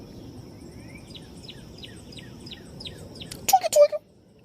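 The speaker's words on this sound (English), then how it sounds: "Let the birds tweet." Outdoors on a walk, birds chirp in a quick run of repeated high notes over a steady insect-like hiss, ending in a louder close burst of tweets.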